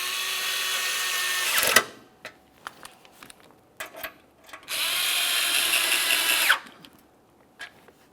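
A power drill drives a pair of 7mm mounting bolts on a GMC Acadia radiator cooling fan assembly, two loud whirring bursts close up with scattered clicks and tool handling between them.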